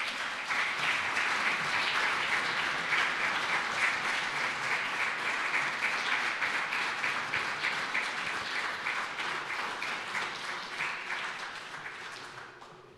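Audience applause at a formal regional council session, dense steady clapping from a large crowd filling the room, holding level before tapering off at the end.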